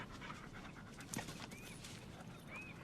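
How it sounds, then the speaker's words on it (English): A dog pants in quick, rhythmic, breathy huffs, faint and close against a hissy background, with one short squeak midway. "Good doggy."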